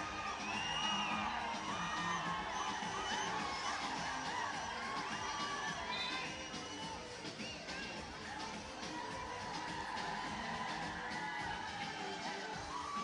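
Crowd at a 3x3 pro basketball league game in Bengaluru, India, cheering and whooping steadily throughout, a dense roar of many voices with shouts and yells rising above it, dipping slightly midway then picking back up.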